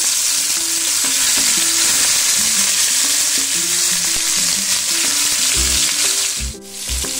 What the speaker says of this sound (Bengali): এবার এটাকে আমি ভালো করে ভেজে নেব মাছটাকে।